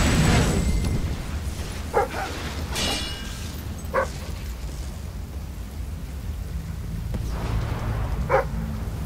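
A dog in the video game Fable III gives a few short, sharp barks spaced a couple of seconds apart over a steady rumbling game backdrop.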